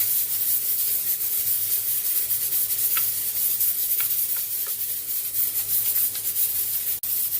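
Onion is added to a pan with garlic and sizzles steadily, a loud broad hiss with occasional soft ticks and a sharp knock near the end.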